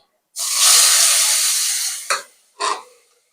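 A sharp burst of hissing and spitting as shing fish (stinging catfish) hits hot oil, fading over a couple of seconds, followed by two short sizzling spurts.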